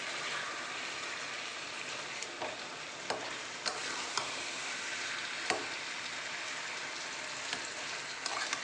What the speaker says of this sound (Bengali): এবার কিন্তু এটা আমি মাছের মাথাটাকে পুঁই শাকের সাথে মিক্স করে নেব ভালোভাবে